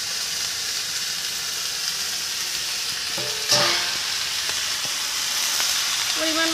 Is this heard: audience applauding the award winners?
no